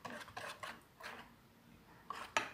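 Banana fritter batter is whisked in a bowl with a whisk or chopsticks, giving a few soft scraping strokes and two sharper clinks near the end, faint and close, with no talk.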